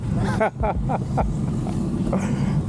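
A diesel car with exhaust running straight from the headers through a 67 Corvette side pipe, at a VW, Audi and Porsche show in Helen, Georgia, rumbles low and steady beneath close conversation.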